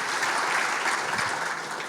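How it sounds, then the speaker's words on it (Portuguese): At a dinner debate with regional mayors, a roomful of people claps in a dense, steady wash of applause that holds at an even level throughout. "uma salva de palmas"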